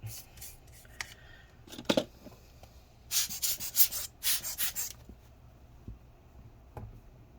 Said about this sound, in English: We're just scraping out all of the adhesive.